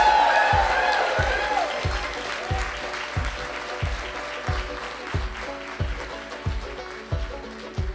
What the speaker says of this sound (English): please signify by your applause